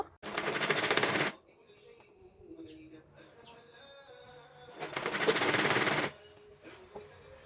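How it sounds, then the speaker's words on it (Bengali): A sewing machine runs two loud bursts of rapid stitching along a double-folded petticoat seam, about a second long each, separated by quieter handling noise and faint background sounds. "ডাবল ভাঁজ দিয়ে সেলাই দিয়ে নিব"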